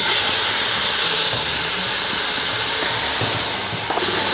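One and a half pounds of ground beef sizzles in hot oil in an Instant Pot, a loud, continuous broadband hiss with faint crackles underneath that briefly dips near the end.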